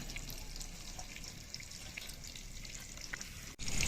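Water pours into a bowl in a home kitchen, a continuous soft splashing trickle at moderate distance that runs unbroken before a sudden pause and a fuller gush at the very end, with no talking.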